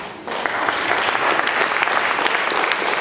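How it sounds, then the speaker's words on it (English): Audience applause at a college event starts abruptly and swells into a full, dense ovation of many hands that holds loud and steady to the end. "I think that gets a clap"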